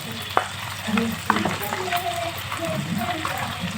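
Spices such as coriander, chili, cumin and turmeric powders roasting in hot oil in a pan for a water chestnut curry, a continuous sizzle broken by spoon taps and stirring scrapes, with faint background voice.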